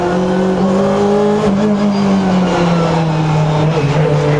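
A 2015 Honda Civic Type R BTCC race car drives hard around Silverstone, its loud, close engine holding a steady droning note that sags slightly through a corner, with tire noise beneath.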